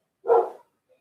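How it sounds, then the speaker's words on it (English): A single sharp bark from a pet dog, loud and fairly close, standing alone against silence in a home setting. "My damn dog"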